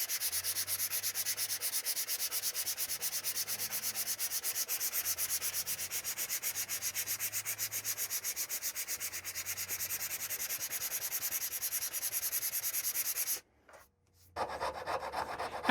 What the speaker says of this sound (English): After that first round of sanding to the main portion of the neck